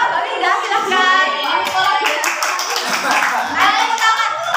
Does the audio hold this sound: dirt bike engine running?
no